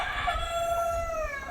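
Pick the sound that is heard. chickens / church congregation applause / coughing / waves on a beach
chickens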